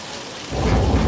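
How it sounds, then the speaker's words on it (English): Artificial rain from a film studio sprinkler system sprays water upward so it falls back down, a dense steady hiss of rain that swells suddenly into a louder, fuller downpour with a deep rumbling roar, close and continuous. "we install sprinkler systems that spray water straight up into the air and then it falls down in whatever rain pattern that we happen to need"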